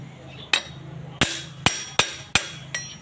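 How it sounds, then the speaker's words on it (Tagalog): A hammer strikes a gear being driven onto the crankshaft of an air-cooled diesel engine, with six sharp, close metallic knocks spaced irregularly over a quiet background. "Ina-align ko lang yung pagpukpok para hindi po mabasag yung gear"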